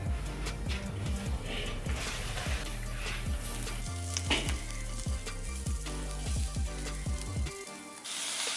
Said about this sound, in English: Can you hear that? It's sizzling.